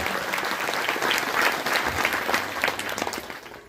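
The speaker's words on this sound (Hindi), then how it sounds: "सभी के लिए जोरदार तालियां एक बार पुनः" An audience at a Bhagavat Katha religious gathering gives a sustained round of loud, dense clapping, steady throughout and fading slightly at the end.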